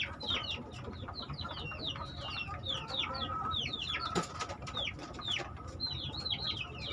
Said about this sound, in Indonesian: Nah, ini ayam sudah kita kasih makan.